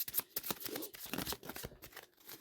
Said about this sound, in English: I'm going to shuffle from here and we're going to get one card.